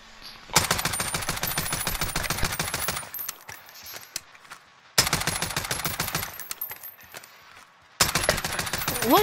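Rapid automatic gunfire in the video game Call of Duty: Warzone, loud, dense bursts of shots in two long volleys separated by quieter gaps with scattered single shots, with no talk.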